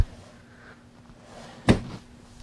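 A drawer beneath a jackknife sofa inside a 2017 Wildwood 31QBTS travel trailer slides and shuts with a single sharp knock after a quiet moment of faint rustling, close to the microphone.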